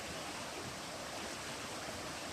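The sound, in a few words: water flowing by the shore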